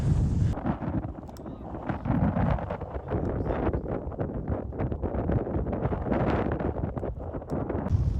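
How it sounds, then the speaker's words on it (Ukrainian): Strong wind buffets the microphone in heavy, continuous gusts at a mountain campsite, a loud low roar with rumbling bursts throughout. "Вітер такий досить сильний зараз дує."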